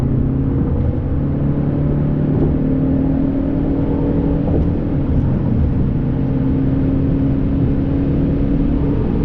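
2023 BMW X1 23i pulling in fourth gear, a steady low engine drone with road and tire rumble heard from inside the cabin, even and unbroken with no talk.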